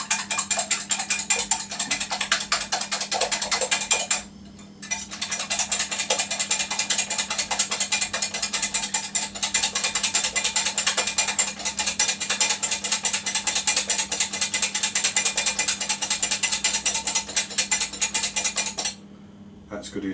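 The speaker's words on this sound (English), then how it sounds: "I'm going to lightly whisk the eggs until they're a little bit frothy." Eggs being lightly whisked until frothy for hazelnut and raspberry friands, a fast, steady rattling of a whisk against a bowl that runs continuously for nearly the whole stretch, with one brief pause.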